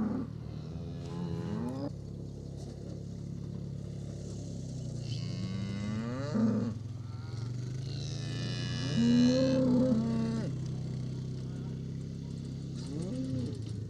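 Cattle in a Breton farm field moo repeatedly, several long drawn-out calls rising over a steady low rumble as the farmer arrives on a small quad to feed them, with a few overlapping moos near and far.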